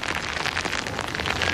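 Rain falls heavily on a sailing boat, a loud, dense hiss of drops spattering on surfaces, steady and continuous with no voices.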